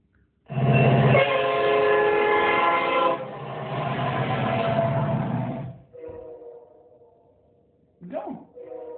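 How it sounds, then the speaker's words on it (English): A train passes close by, a loud rumbling roar with horn-like tones swelling for several seconds, then fading into softer rolling noise as it moves away, with a brief voice near the end. "Trains."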